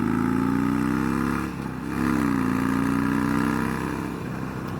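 A 2019 Harley-Davidson Roadster V-twin engine runs loud and close, a steady throbbing idle that rises briefly with a blip of the throttle before settling back, with no voices over it.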